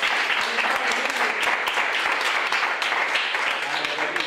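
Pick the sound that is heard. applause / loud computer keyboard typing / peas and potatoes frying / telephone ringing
applause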